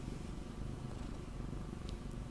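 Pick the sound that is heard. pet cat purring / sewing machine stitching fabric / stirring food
pet cat purring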